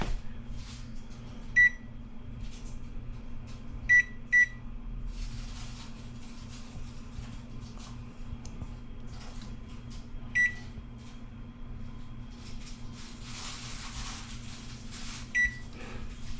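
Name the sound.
unlocking the control panel of a Whirlpool Accubake electric oven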